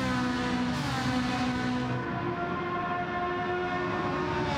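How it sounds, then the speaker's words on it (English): Gr.4 race car engines in Gran Turismo 7 at Watkins Glen hold a loud, steady buzzing whine, their pitch rising and shifting slightly as the cars run flat out, with no talk. "Just take a moment to listen to that engine."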